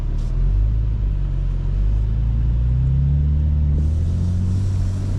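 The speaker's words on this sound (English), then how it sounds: "You'll probably hear the car a little bit more." A 2025 BMW M4 Competition's engine drones steadily while driving with the windows down, a low continuous rumble mixed with road noise that swells slightly near the end.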